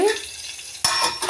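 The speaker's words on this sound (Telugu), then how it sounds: "పోపు కాలేవంక వేసేసుకుందాం." Mustard seeds and spices tempering in hot oil for a coconut, coriander and green chilli chutney give a steady, bright sizzling hiss, with a sharper crackling burst near the end.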